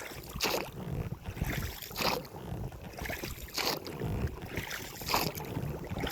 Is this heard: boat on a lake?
yes